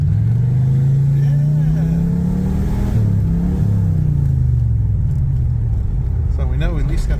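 A 1984 Chevrolet Camaro Z28 engine, running with no exhaust fitted, idles with a loud, rough, deep rumble and occasional revs, while someone says a word over it.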